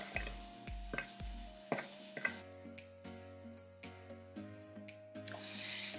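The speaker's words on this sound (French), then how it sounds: "Et on mélange le tout." Light clinks and taps of a utensil in a bowl while cupcake batter of flour and yeast is mixed, a few scattered knocks over a faint tonal hum, quiet and close.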